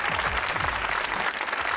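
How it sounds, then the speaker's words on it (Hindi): A studio audience at a comedy talk show bursts into loud, dense applause, a continuous close roar of clapping with a faint low voice or music underneath. "बजाओ तालियां बजाओ।"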